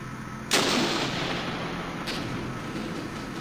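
Gunfire strikes a BMP armored vehicle in the Armored Brigade war game as a single heavy blast that rolls off into a long, rumbling decay, with a fainter second report partway through.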